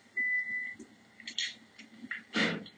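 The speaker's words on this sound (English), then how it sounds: "That noise is just a microwave, guys," A kitchen microwave oven gives a steady whistling tone followed by a few short beeps, fairly faint and alone amid quiet room sound.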